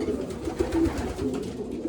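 Pigeons cooing inside a loft, several soft, low throaty coos repeating in a loose rhythm, close and steady, with no talk.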